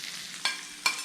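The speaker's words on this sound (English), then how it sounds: "we're just gonna cook the rest of the bacon" Bacon frying on a pancake griddle, a continuous close sizzle with two sharper crackling bursts.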